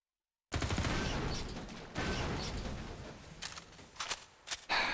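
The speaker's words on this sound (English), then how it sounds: "Great sound, but apparently the most ineffective grenades you've ever seen." Grenades in Half-Life 2 MMod burst suddenly after silence, a loud rolling explosion followed by a second blast and a string of sharp crackling pops near the end.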